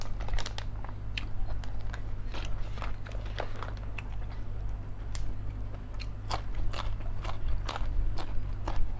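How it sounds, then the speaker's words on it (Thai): Close, crunchy chewing and biting of a Thai meal with chili paste and fish, many sharp bites and crackles in irregular rhythm over a steady low background hum, with no talking. "กินกันน้ำพริกน้ำครับ"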